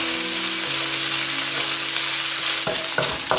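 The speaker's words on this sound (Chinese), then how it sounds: "先把五花肉放进来煸香。" Pork belly sizzles steadily in hot oil in a wok, a loud, close, continuous hiss with a faint hum underneath and a couple of sharper clatters near the end.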